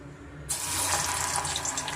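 Avarebele vada batter hits hot oil and a bright, steady sizzle erupts suddenly, hissing loudly and continuously up close after a brief quiet moment.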